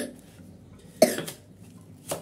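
A single sharp cough from a boy, close and fairly loud, followed about a second later by a softer second cough, both against a quiet indoor background.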